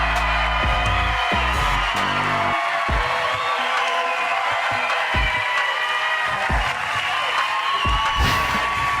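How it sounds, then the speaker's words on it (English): Audience at a political event cheering and whooping through a standing ovation, a dense continuous crowd roar with shouted voices rising and falling throughout. "did you also notice how they were giving him a standing ovation?"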